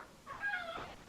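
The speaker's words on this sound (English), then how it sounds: "that's the cat" A house cat gives a single short meow, a faint, close mewing cry that rises and falls over about a second, heard alone against a quiet room background.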